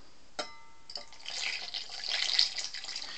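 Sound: water poured onto a mobile phone

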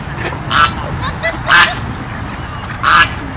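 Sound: goose honking

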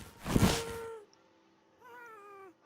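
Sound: happy ghast cat-like sound from video game

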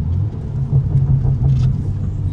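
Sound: kart engine driving in the rain

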